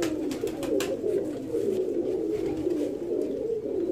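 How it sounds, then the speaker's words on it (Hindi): A Teddy high-flyer pigeon coos in a steady, close, throaty rolling murmur that continues without a break, with a few faint clicks and rustles above it. "इंतहाई शानदार ये कबूतर है"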